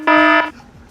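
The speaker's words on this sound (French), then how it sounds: "Je mettrai un bip." A loud steady censor bleep, a single harmonic-rich tone lasting about half a second, then quiet room sound.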